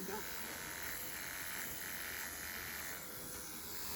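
Electric hair clippers buzz steadily and close at hand while trimming a straight neckline on a home quarantine-style clipper cut, the hum holding an even level throughout.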